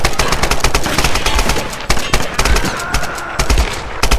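Rapid gunfire in Tomb Raider, loud bursts of automatic shots cracking close by in uneven clusters throughout, with no talking.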